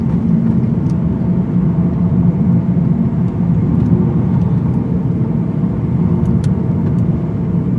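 A 2018 Lexus RC-350F circles a turning loop on salt-strewn pavement, its low engine rumble and tyre roar steady and loud throughout, with no one talking.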